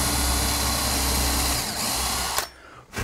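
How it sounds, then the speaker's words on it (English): A power drill whines loudly and continuously close by, bores freehand through wood, then stops abruptly, followed by a short final burst. "I just mark them like that and drill them freehand."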